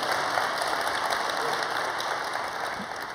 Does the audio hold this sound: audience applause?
yes